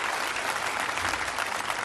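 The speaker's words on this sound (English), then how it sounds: "I'm not sure why everybody's cheering." An audience at a political concession speech cheers and applauds in a loud, continuous wash of clapping that fills the whole stretch.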